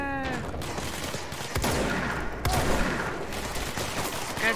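Rapid gunfire from the video game Control, a sustained burst of shots at moderate loudness with a few sharper impacts, standing mostly alone with little talk.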